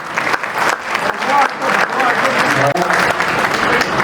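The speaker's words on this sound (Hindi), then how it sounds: "एक बार तालियों से इन्हें आशीर्वाद दें।" An audience at a Hindu spiritual gathering applauds, a dense and loud burst of clapping that carries on with brief swells, along with crowd murmur.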